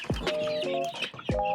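Several chickens cluck and squawk at close range during feeding, with overlapping calls and sharp bursts repeating steadily across the short stretch.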